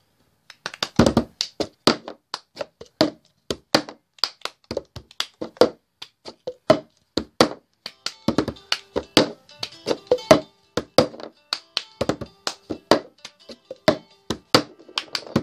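Plastic cups tapped, knocked on a table and clapped between in the cup song rhythm, a steady pattern of sharp taps, thunks and hand claps repeating for the whole stretch, close and clear with no voices.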